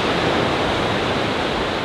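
Steady, loud broadband roar of a waterfall with water crashing close by, continuous and even for the whole stretch, no voices.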